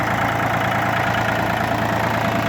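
An Iseki Land Hope 245 Japanese 4WD tractor keeps idling in minus 32 degree frost, a constant nearby engine drone with a low throbbing pulse and no breaks or voices.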